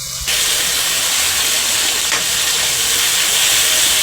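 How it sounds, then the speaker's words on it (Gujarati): A tempering for potato bhungla filling bursts into a loud, steady hiss as it hits the hot oil. The sizzle comes in abruptly and stays strong and close, with no voices. "આપણે આ રીતે તેનો વઘાર કરી લેવાનો। તેને હલાવીને મિક્સ કરી લઈશું સારી રીતે।"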